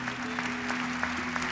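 Church congregation applauding during a Catholic worship service, a dense continuous round of clapping from many hands over a low sustained hum, close and steady.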